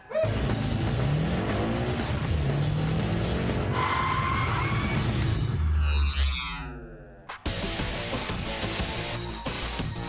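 High-horsepower muscle cars, each over 1,100 horsepower, roar loudly as they race, with tire squeal and a rising engine whine before the sound cuts off abruptly, then resumes with more engine noise.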